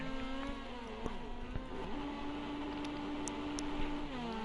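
Rally car engine in a racing video game, revving high and held up through a downshift, a continuous buzzing drone with shifting pitch, fairly quiet and steady with no talk.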